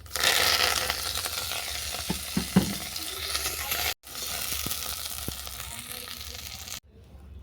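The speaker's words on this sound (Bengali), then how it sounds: "এরপর ভেজে নেবো ধনেপাতা কুচানো" Chopped coriander leaves sizzle in hot oil and are stirred in a pan, giving a loud, close hiss that fades gradually. Occasional spatula scrapes and clicks break in, with short gaps in the sound.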